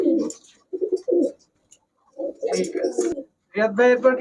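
Giribaz high-flyer pigeons, Indian and Pakistani coloured birds, coo in several short bursts with pauses between, close by, while someone talks over them.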